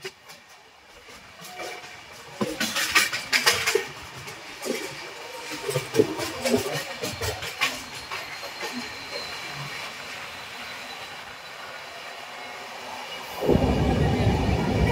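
Howrah–Ranchi Intercity SF Express rolling through Santragachi railway junction, with steady rumbling wheels and rhythmic clacking over the rail joints, heard from on board. A louder surge of rushing noise comes near the end.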